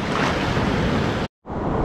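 Freezing winter ocean waves on a New York City beach, a loud close wash of surf and churning water that cuts out abruptly for a moment before resuming, no voices.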